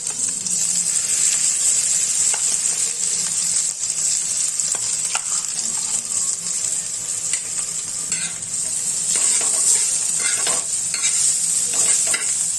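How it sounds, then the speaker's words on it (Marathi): A coarse chili and peanut thecha mixture fries and is stirred in hot oil in a pan, producing a loud, continuous hissing sizzle with repeated scraping strokes, close up and steady throughout. "तेल गरम झालं की आपण यामध्ये हे बारीक केलेलं मिश्रण टाकायचं आहे"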